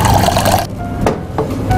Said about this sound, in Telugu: వాటర్ యాడ్ చేసుకున్నాం.